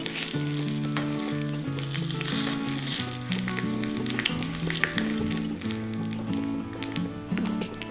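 Steady crackling sizzle of something frying in hot oil, continuous and close, with a tonal musical line running underneath.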